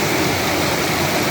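Creek water rushes steadily near a waterfall, a dense, continuous broadband roar close by, with no voices.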